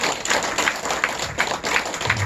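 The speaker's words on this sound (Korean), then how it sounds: "박수 한번 부탁해요. 박수." An audience at a forum claps in a short burst of applause. The claps are close and fairly loud, uneven and overlapping, and continue for a couple of seconds.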